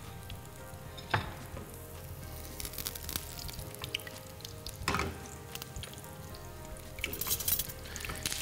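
Banana slices in batter fry in a pan with a quiet, steady crackling sizzle, punctuated by a few sharper clinks and scrapes as the pieces are moved.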